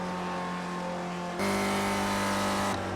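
Onboard engine of an iSpec Racer Ford race car starting a qualifying lap on a road course, a loud steady drone that jumps up to a higher pitch partway through, then drops back as the gear changes.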